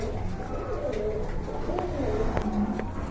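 Pigeons offered for sale, including a pair of racers, coo softly nearby, with a few low repeated calls over a steady background murmur.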